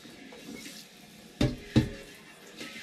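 A sink sprayer rinses a milker bucket in a kitchen sink, with soft running water and two sharp splashing bursts in close succession near the middle.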